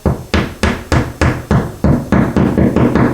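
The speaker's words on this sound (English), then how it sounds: "we just tap it in the rest of the way with the hammer" About ten sharp, evenly spaced hammer blows tap a plug into a hole drilled in tile, each a loud close knock with a quick decay, speeding up slightly toward the end.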